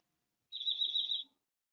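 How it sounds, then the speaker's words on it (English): A bird gives one thin, high, sustained chirp lasting under a second, isolated against near silence. "Nice bird."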